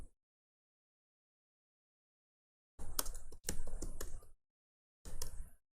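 Typing on a computer keyboard while entering text in MS Word comes in three short bursts of quick, close key clicks after a long silence.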